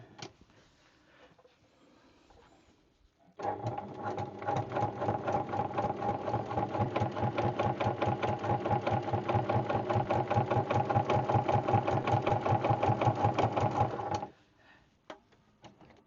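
A new Baby Lock Hagane sewing machine stitches in one steady, rapid run of close mechanical needle strokes, loud and even for about eleven seconds, with quiet handling noises before and after.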